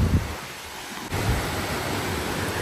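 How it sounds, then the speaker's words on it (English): Lower falls of Big Falls waterfall in San Bernardino National Forest, a constant broadband roar of falling water with a brief dip and a soft thump, with no voices. "So this looks to be a lower falls right here"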